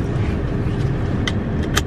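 Car engine idling while parked in cold weather with the heater on, a steady low rumble filling the cabin, with a couple of brief sharp clicks or jingles near the end.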